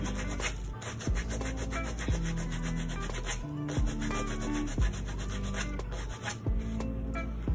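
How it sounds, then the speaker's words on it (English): Sandpaper rubbed back and forth over old denim jeans to distress them, a steady scratchy rasping with repeated strokes, close and continuous with no talking. "just going to take the sandpaper, kind of push the denim up and just start"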